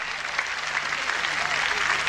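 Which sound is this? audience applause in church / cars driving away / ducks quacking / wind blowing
audience applause in church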